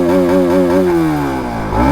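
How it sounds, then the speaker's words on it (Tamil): A Bajaj RS200 BS4 motorcycle exhaust revs up close and loud, holding a steady buzzing note before dropping off and climbing again, with no talking. "ஸோ வண்டியோட எக்ஸாஸ்ட் நோட்டு கேளுங்க"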